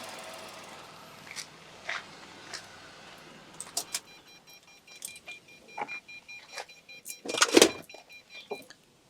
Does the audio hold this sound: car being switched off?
yes